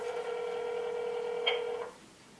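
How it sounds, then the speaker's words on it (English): A steady electronic telephone tone, a landline being dialed, holds for nearly two seconds with a brief click partway through, then cuts off to quiet line hiss. No voices. "maybe you didn't dial it right"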